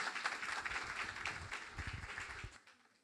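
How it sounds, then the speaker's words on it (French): Applause from a studio audience at a cooking competition between starred chefs, a dense steady wash of clapping that holds for over two seconds before tapering off into quiet. "Merci pour vos applaudissements."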